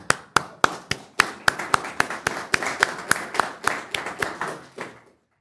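A small audience claps along with an embassy speaker: distinct, fairly regular hand claps in a steady rhythm that grow denser, then stop abruptly after about five seconds, with no talk over them.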